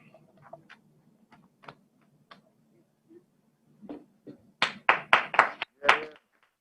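At a company's annual general meeting, a quiet room carries scattered small clicks. Then a short burst of a few close handclaps rises sharply for about a second and a half before fading.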